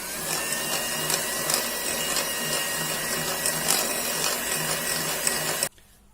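An electric mixer whirs steadily through cookie dough seasoned with salt, a continuous close motor drone with slight rhythmic variation that cuts off abruptly near the end, with no talk.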